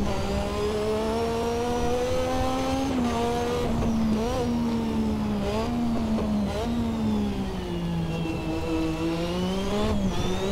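A Lotus 98T turbocharged Formula One car pulling hard in third gear, its loud engine whine sweeping up and down in pitch with several quick lifts and throttle blips, heard close and continuous.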